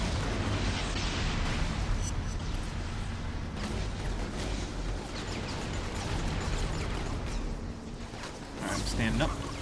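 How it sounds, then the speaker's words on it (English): A missile explosion in the inFamous video game makes a sustained rumbling blast with crackling debris and bursts, with a swell near the end, under steady game noise and speech. "That's a missile."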